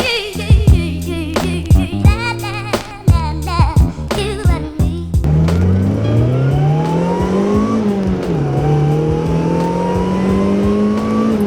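A supercharged 1994 Mazda Miata R package, first with bursts of choppy engine noise, then a steady loud drone whose pitch climbs and dips as the car accelerates and shifts, heard close from onboard.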